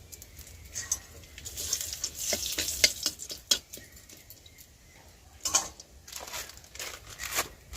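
Three bay leaves frying in a little white oil in a wok, giving soft crackles and sizzling pops in bursts, with a quiet, steady background.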